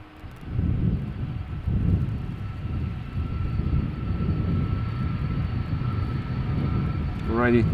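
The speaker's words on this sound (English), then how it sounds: "Delta Airlines A330, 300, flight 161 to Minneapolis, Minnesota. Let's go!" Delta Airlines Airbus A330-300 taking off from Schiphol's Polderbaan runway, a sustained, broad low engine roar with wind buffeting, heard from outdoors at a moderate distance, rising slightly near the end.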